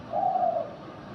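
A single low, smooth dove coo, close and moderately loud, lasting about half a second before fading into quiet background.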